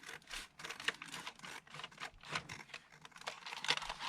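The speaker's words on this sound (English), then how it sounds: "I need to trim a little off this side of the envelope again." Paper envelope being trimmed during collage door crafting, producing a steady run of soft, close, scratchy snips and rustles across the whole stretch, with no talking.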